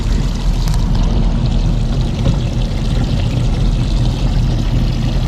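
Steady, loud rush of water pouring and churning as it is pumped into a live bait tank aboard a Caribbean 23 boat, continuous throughout with no talk.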